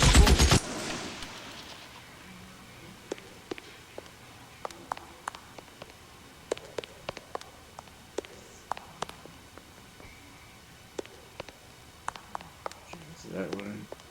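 Sporadic gunshots ring out in an L.A. Noire shootout, sharp single cracks scattered irregularly over quiet background, with a loud burst at the start and voices nearby.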